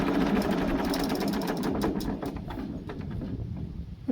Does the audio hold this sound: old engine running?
yes